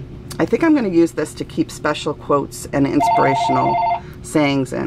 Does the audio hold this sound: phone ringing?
yes